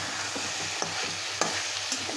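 Chicken with capsicum fries gently on low heat with green chillies, bay leaf and garam masala powder, a soft sizzle under a few sharp spoon scrapes as it is stirred.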